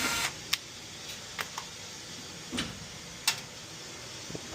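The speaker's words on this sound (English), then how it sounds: "And pop these 4 screws off." Screws being removed from the gas valve manifold of a Heil furnace with a faulty Honeywell SmartValve: a handful of sharp, separate metallic clicks and ticks, spaced irregularly over a steady background hiss.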